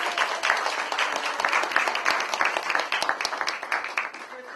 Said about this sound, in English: let's just start off with a round of applause